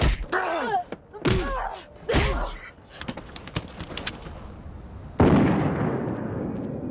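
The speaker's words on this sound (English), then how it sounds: "And why was the gunshot muffled?" Sound effects from the anime film Kite: several dull, muffled thumps land in quick succession, like blows, followed by sharp cracks and a deep boomy gunshot that trails off into noise.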